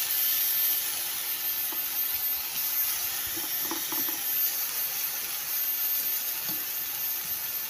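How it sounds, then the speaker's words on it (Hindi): Eggplant patties frying in desi ghee give a steady, soft sizzling hiss that stays even throughout, with no voices over it. "ये देखिए गाइस जी, फ्राई हो रहे हैं हमारे ये जी बैंगन की टिक्कियों"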